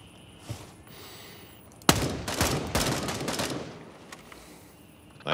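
A burst of automatic gunfire during a night operation in Gray Zone Warfare, one sharp crack followed by a rapid string of close shots, then scattered fainter reports and another crack at the end.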